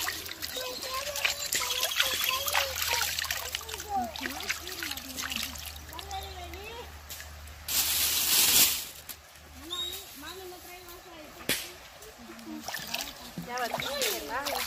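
Hand stirring of river water during fishing in El Salvador, with irregular splashes and trickles under frequent nearby talking, and one loud splashing burst midway.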